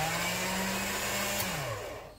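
Polymer clay being fed through a machine, giving a steady whirring mechanical drone with a motor tone that drops and fades away near the end.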